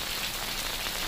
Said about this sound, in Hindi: सीवान में रात से ही झमाझम बारिश हो रही है।